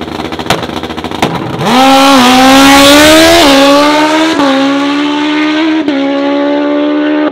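A 1955 Chevy launching at a drag strip, engine roaring loud and close as it pulls hard through rising gear tones with brief shifts, the sound fading slightly as it moves away.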